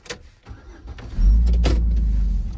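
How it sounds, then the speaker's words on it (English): A farm service truck's engine cranks with a few clicks and short bursts, then catches and settles into a loud, steady low idle close by. "So let's fire up the service truck."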